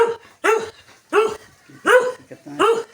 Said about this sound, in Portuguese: Ela na máquina, ela fica agoniada, latindo todo o tempo.